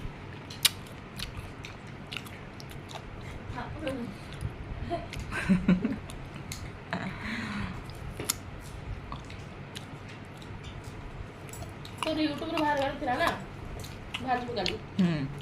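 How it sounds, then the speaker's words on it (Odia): Several people eat mangoes, with wet squishy bites and chewing heard close up over a constant background hum, while people talk and laugh. "ଆମେ ସବୁ ଆମ୍ବ ଖାଉଛୁ।"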